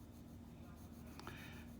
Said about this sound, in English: just letting the weight of the pencil hit the paper